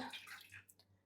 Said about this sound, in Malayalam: നിങ്ങൾക്ക് ആവശ്യമുള്ള വെള്ളം ഒഴിക്കാം കേട്ടോ